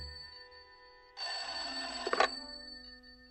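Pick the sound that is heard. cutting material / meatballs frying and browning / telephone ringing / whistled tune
telephone ringing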